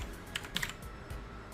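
Keys tapped on a computer keyboard in a few quick, soft clusters, close and quiet, with no voices.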